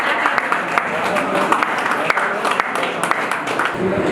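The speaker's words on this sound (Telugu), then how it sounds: "అందరం ఒకసారి గట్టిగా చప్పట్లు కొట్టాలి." Audience clapping fills a song release event with a steady, dense wash of applause that holds at an even level from start to finish, with a few sharper claps standing out.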